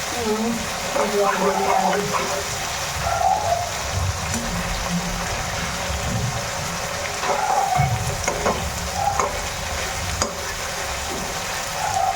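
Prawns and rohu fish frying in a pan give a continuous close sizzle with occasional spatter pops and a few stirring scrapes, loud and steady throughout.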